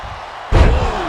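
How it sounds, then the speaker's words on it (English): A heavy body slam lands in a wrestling video game, a single loud, deep thud that cuts in abruptly and then settles into a sustained rumble of crowd and arena noise. "Slammed down hard."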